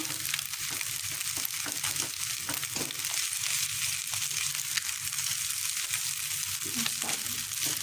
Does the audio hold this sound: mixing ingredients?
yes